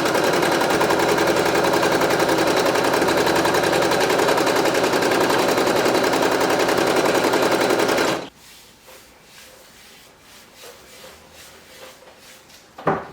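A 4x4 embroidery machine stitching a baby gown chatters in a rapid, steady mechanical rattle for about eight seconds, then stops abruptly, leaving quiet room noise and a brief knock at the end.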